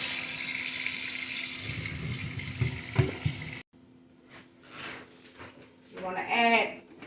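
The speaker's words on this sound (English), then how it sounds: "What we're going to do is wash the potatoes." Potatoes being washed under running water for a crab boil, a steady broadband tap rush filling the first half loudly, then cutting off to quieter handling sounds and brief clatter afterward.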